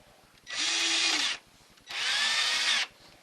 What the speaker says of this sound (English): So I'm just going to drill.